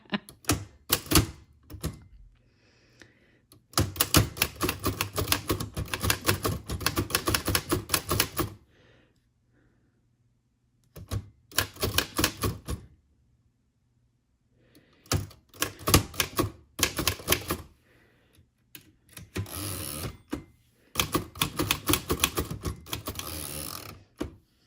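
Recipe cards typed on a vintage manual typewriter: rapid bursts of clacking keystrokes with short pauses between lines, close and crisp, under no talking.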